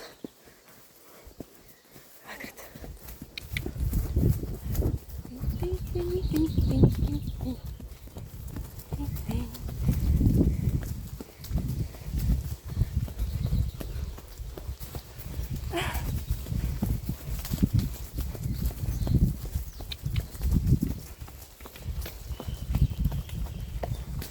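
Hooves clip-clop in uneven bursts as a small herd of horses runs home, close by, with a voice talking over the trotting at times.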